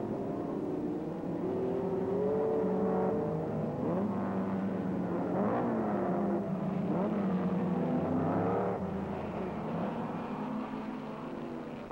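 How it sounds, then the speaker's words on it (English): Racing cars lapping Mosport in 1962, including a green Lotus chasing a Cooper into a corner, roar continuously at close range with steady engine drone and shifting pitch throughout. "he tries to take the green Lotus around the outside of Penske into the 3rd corner, but has to drop back"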